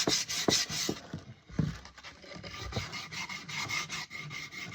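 A hickory axe handle being sanded by hand with coarse 60 grit sandpaper, with close, steady scratchy rasping strokes in an uneven rhythm and no talking.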